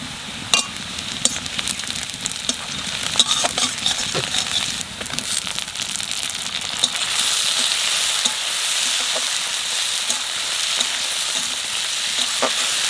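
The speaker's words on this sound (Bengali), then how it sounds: "এইবার পেঁয়াজ কুচি দিয়ে দেবো পেঁয়াজ বেশি বাজবে না একটু বাজিছি" Chopped onions sizzle steadily in a hot pan with garlic and ginger for an okra dish, loud and close with occasional stirring scrapes and no voices.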